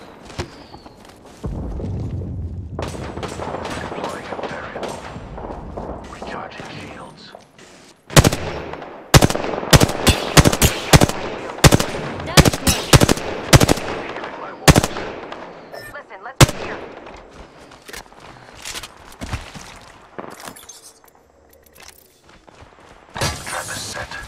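Gunfire in Apex Legends gameplay: bursts of rapid automatic shots and single loud cracks crowd the middle of the clip, with quieter shots and game sounds before and after.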